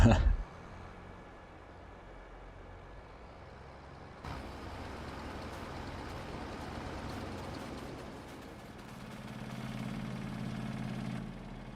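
Tractor diesel engines in Farming Simulator 22 rumble and idle steadily in the background, a low continuous drone that swells and shifts toward the end, while someone talks over it.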